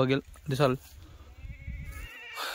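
Kathiawari goats give two loud, close bleats in quick succession, followed by low rumbling and shuffling with faint voices nearby.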